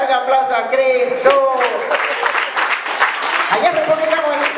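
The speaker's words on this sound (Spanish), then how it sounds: "Haga aplauso a Cristo." A church congregation at a youth service claps and cheers for a few seconds, a broad, steady wash of applause sitting under a voice singing or calling out over it.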